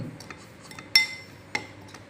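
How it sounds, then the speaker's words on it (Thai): A spoon stirs and clinks in a dish of Thai spicy horseshoe crab egg salad with onion, giving a few sharp metallic taps and faint scraping, close and quiet. "แล้วก็คนครับคนคนคน"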